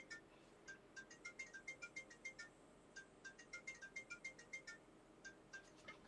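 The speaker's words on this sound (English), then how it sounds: "That's my phone ringing." A phone ringtone plays indoors, a bright repeating electronic melody of short chiming notes in several phrases, fairly faint and alone with no talk.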